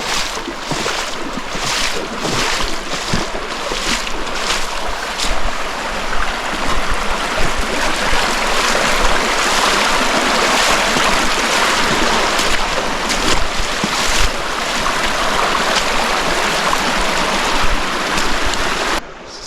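A creek among large overhanging ferns and big boulders flows with a dense, steady rush of water that stays loud and unbroken throughout, with no voices.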